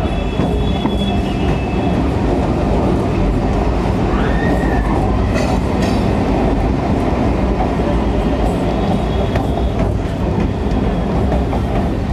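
A Kolkata Circular Railway local train runs toward Bibadi Bag station, its loud, steady rumble of wheels and carriages filling the whole stretch with faint squeals and rattles and no voices.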